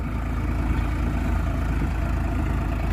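A Farmtrac 60 tractor engine running at about 1000 to 1200 rpm with a 20-disc harrow, a steady loud low diesel rumble close by, even and unbroken throughout.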